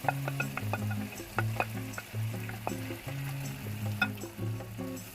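Tofu cubes are tossed in a frying pan for a sizzling tofu dish, with a steady hiss and a run of sharp clatters from the tossing over a low, droning hum.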